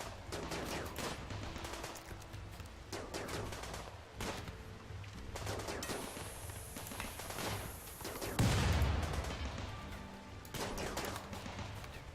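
Sniper rifle gunfire in the video game RimWorld during a raid, several sharp shots spaced a second or two apart over a steady background, with one louder burst, no talking.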